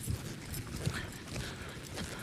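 Horse hooves thud in a rolling, loping rhythm on soft ground as the horse lopes circles, moderately close, with low rumbling background noise.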